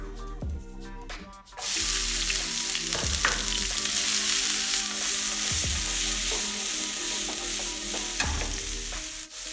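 Ginger, garlic, onions and peppers hit hot oil all at once, bursting into a loud, steady sizzle after a brief clatter, with occasional stirring knocks and scrapes through the frying.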